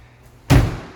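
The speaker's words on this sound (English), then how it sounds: "I'll shut the door." An apartment door swung shut with a single heavy thud, close and loud, followed by a brief fading rumble in an otherwise quiet room.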